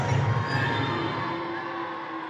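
Basketball arena crowd at the WFCU Center during a Windsor Express versus KW Titans game, a broad sustained roar of disapproval with scattered shouts and whoops rising at once after a foul call, steady and loud throughout.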